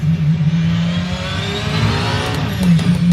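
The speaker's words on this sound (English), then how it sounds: "What you driving over here, David? 919 Evo" Porsche 919 Evo LMP1 race car in the Assetto Corsa racing sim, its engine droning loud and steady with a revving rise in pitch, close and unbroken with no talk over it.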